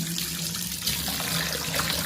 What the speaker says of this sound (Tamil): ரெண்டு மூணு தண்ணி நம்ம தொடர்ந்து இதை கழுவிட்டே இருக்கணும்